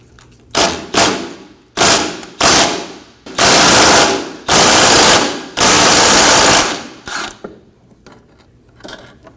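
A ratchet wrench loosens a 10mm horn bracket bolt on a 2014-2023 Ford Transit Connect, with loud, close clicking bursts followed by three longer sustained runs of rapid ratcheting and a few fainter clicks at the end.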